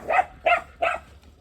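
A dog barks three times in quick succession inside a home, close and fairly loud with short even gaps, then falls quiet.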